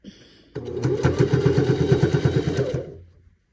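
A sewing machine stitching fabric for a robe, a rapid even chatter of needle strokes for about two seconds, starting and stopping abruptly, close and fairly loud with no talking.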